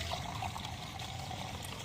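Water pours and trickles steadily into liquid fertilizer for a terrace garden, a soft continuous splash heard alone for a couple of seconds.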